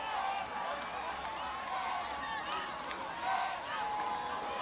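A home crowd roars in a stadium at the African Games in Accra after a Ghanaian sprinter's heat win, a steady, dense wall of cheering and applause that keeps going with a few swells, mixed with commentary.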